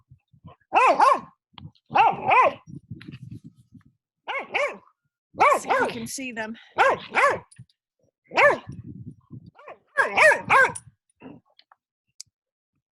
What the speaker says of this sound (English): Can you hear my dogs playing?